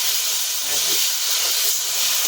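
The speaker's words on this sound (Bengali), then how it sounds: "আর একটু জল দিয়ে দেবো।" Water poured into a hot pan of egg curry sets off a loud, steady sizzling hiss that fills the moment up close, with faint cooking clatter beneath.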